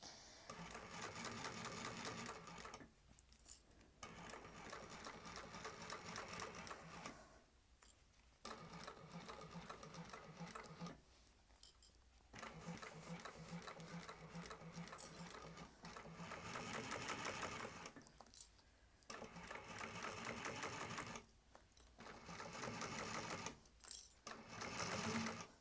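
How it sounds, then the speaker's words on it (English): Sewing machine running a basting stitch along a bag's piping with a zipper foot, a steady fast mechanical chatter in long bursts broken by brief pauses, close and loud. "I'm just using a basting stitch to do this for now"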